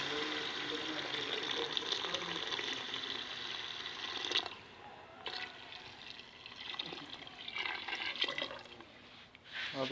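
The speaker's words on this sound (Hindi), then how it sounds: "अब इसमें ऐड करेंगे पानी।" Water pours steadily into a cooking pot of rajma curry with a rushing, splashing sound for several seconds, then drops to quieter intermittent splashes and trickles.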